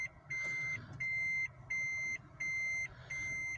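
Car reversing sensor beeps in reverse gear: five steady, evenly spaced high-pitched tones, each lasting about half a second, sounding clearly over a low engine idle hum.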